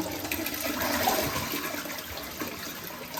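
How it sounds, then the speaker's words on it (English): A toilet flushes after cleaning with a Clorox bleach pack, a steady close rush of water that holds loud and even throughout, with no talking. "I'm just gonna go ahead and flush it."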